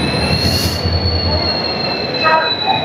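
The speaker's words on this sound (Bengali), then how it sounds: "সেই ট্রেন প্রায় 1 ঘন্টা পর প্ল্যাটফর্মে ঢুকছে।" The 12841 Coromandel Express rolls into a station platform, its wheels giving a sustained high metallic squeal over a loud, steady rumble of the train close by.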